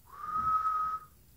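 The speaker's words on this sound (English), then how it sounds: "Wait, whistle out." A single sustained whistle, blown while breathing out, holds one steady clear tone for about a second, rising in and fading out cleanly, close and alone with no talking.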